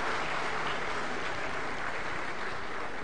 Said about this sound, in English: A thunderous round of applause